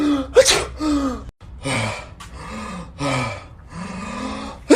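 A person sneezes repeatedly in quick succession, loud and close, each burst followed by breathy gasps and vocal noises, with no other background sound.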